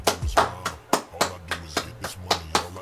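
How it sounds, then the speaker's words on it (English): Hands clapping alone, about ten sharp claps in a steady, slightly uneven rhythm, close and clear with no talk over them. "So let's clap it up."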